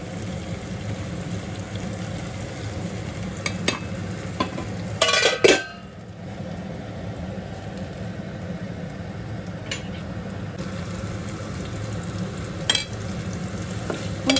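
Brinjal (eggplant) frying in a pan gives a steady, close sizzle with a few sharp stirring scrapes and clatters midway.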